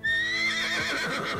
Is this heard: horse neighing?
yes